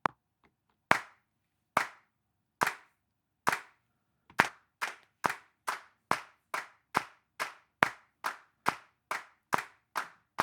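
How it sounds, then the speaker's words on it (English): Sharp hand claps keeping musical beats, starting as a few widely spaced claps and then settling into a steady, quicker run of evenly timed claps, close and loud with silence between each. "So you clap the beats."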